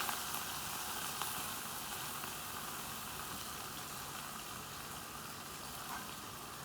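Carrot, onion, ginger, green chilli and curry leaves sauté in a pan, giving a steady soft sizzle with broadband hiss that holds even and unbroken throughout, with no voices.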